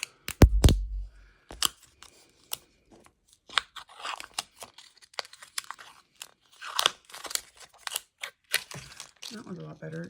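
A silicone witch hat mold being cut out with scissors: a heavy crunching snip at the start, then a run of sharp, close clicks and rubbery snips with brief pauses, with a little talk near the end.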